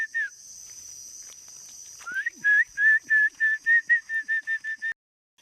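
A dove calls near a small stream in the forest, its short repeated coos coming in a quick run of about a dozen notes, fairly close and clear over a thin high insect drone.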